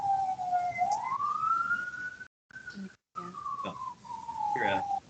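An emergency siren wails outside, a rising and falling tone running steadily through the whole stretch and dropping out briefly, with birds and distant street noise around it.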